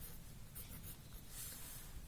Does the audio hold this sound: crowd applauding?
no